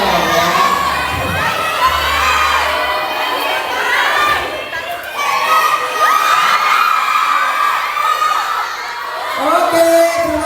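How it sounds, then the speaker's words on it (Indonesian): An audience at a champions' meet-and-greet bowling event in Bali cheers, whoops and claps loudly, with children's high shouts mixed in; the noise is continuous with swelling peaks, and people talk through it. "Sekali lagi tepuk tangan untuk mereka semua."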